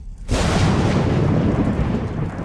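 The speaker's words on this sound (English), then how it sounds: "Lightning bolt." Thunderous lightning-bolt spell effect during a tabletop game session: a sudden loud blast after a brief quiet moment, then a sustained rumbling roar that carries on steadily, with no voices over it.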